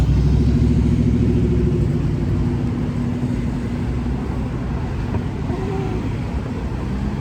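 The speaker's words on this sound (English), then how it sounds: "It's another Delancey Street bus." A city bus on the Delancey Street route rolls along First Avenue in Manhattan, a steady loud low engine rumble and traffic roar that stays close throughout and eases slightly toward the end.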